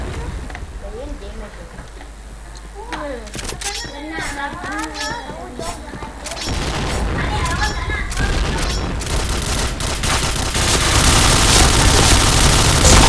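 Rapid gunfire and booming shots in the video game Point Blank, bursts growing denser and louder toward the end while a player talks excitedly over the shooting.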